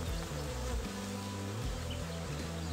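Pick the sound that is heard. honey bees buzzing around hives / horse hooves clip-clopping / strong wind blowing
honey bees buzzing around hives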